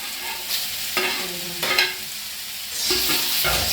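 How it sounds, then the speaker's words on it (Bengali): Eggplant sizzles steadily in a hot pan, with occasional scraping and stirring sounds up close. "বেগুনগুলো ভাজা হয়ে এসছে। এবার আমি টমেটো আর কাঁচা লঙ্কাটা দিয়ে দিচ্ছি।"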